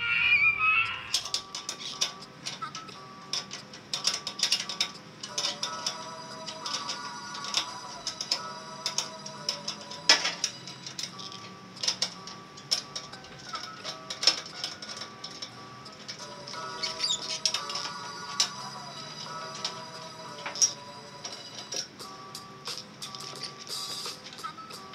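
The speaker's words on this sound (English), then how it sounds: "take off the back plate of your frame with a 15 millimeter wrench" A 15 millimeter wrench working loose the back plate on a lawnmower frame gives quick, close ratcheting ticks in irregular bursts across the whole stretch, with no talking.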